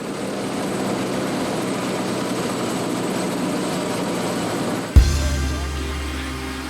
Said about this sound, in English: the rotors are still spinning while we are boarding